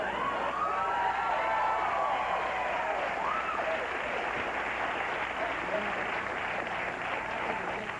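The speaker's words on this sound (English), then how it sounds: "people will applaud virtually anything" A television studio audience during a late-night talk show breaks into a long, dense wash of applause that carries on steadily throughout, with a wavering tone and some voices mixed into it.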